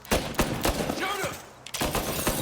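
Rapid gunshots crack in the Mafia Definitive Edition video game, several sharp shots in bursts with a brief pause midway, while a voice speaks over the firing.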